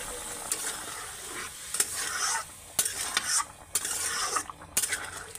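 Sour bottle gourd curry poured into a hot pan and stirred, giving a steady sizzle broken by repeated sharp clinks and scrapes of a spoon against the metal pan, with no talking.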